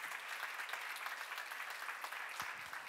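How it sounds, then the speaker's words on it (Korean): Steady applause from a church seminar congregation, dense clapping throughout without a break, moderately distant and fairly quiet. "박수하세요"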